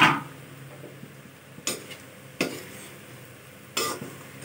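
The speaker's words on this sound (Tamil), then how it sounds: "போட்டு நல்லா கிண்டி விடுங்க." Araicha maavu upma, a Tirunelveli ground-flour upma, is stirred in a pan: a few sharp, separate clacks and scrapes of a utensil against the pan, spaced irregularly over a quiet background.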